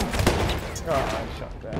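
Gunfire in the video game Battlefield 1, Ballroom Blitz map, a few close shots in a short burst over busy battle noise.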